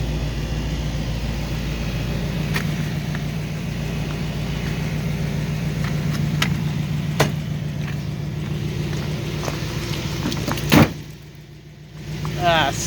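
A Buick Electra engine idles in 25-degree cold as a steady low drone with a faint voice now and then; the sound cuts out sharply near the end, then briefly returns.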